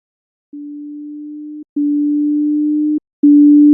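Three steady, pure electronic beeps at the same pitch, each lasting over a second with short gaps between, getting louder each time.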